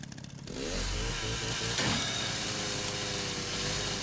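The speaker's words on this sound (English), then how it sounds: "We'll cut the metal with the chainsaw." A chainsaw cuts through metal in the Resident Evil Requiem video game, a loud, steady, close engine roar that kicks in after a brief start and holds a rasping, grinding drone to the end.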